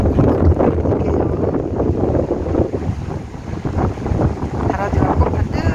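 Strong wind gusting outdoors beside the Seomjin River, a loud rumbling buffet hitting the microphone that carries on throughout, with faint speech mixed underneath.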